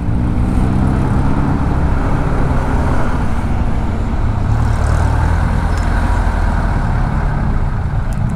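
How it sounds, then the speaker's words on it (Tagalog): Heavy road traffic in Lipa City, Batangas, a loud, constant low rumble of engines and tyres with cars, trucks and buses idling and moving close by, continuous with no break. "Kabila, grabe yung traffic oh."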